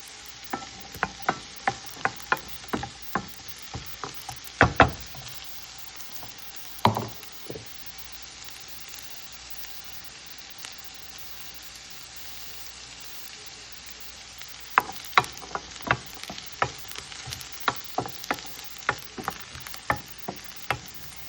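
Chopped onion fries in a pan for fried rice under a soft continuous sizzle. Sharp clacks of a spatula stir it in quick bursts at the start and again near the end, with a quieter stretch between.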